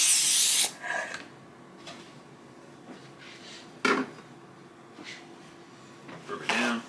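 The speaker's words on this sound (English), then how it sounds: "spray this pan here" A short hissing spray burst opens, followed by light clinks and scrapes of a pan on a counter, with a few quieter hisses later.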